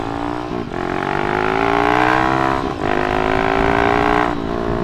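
An old MX 200cc motorcycle accelerates hard at full throttle, a loud, near engine roar climbing steadily in pitch through the gears, with two brief dips at the shifts.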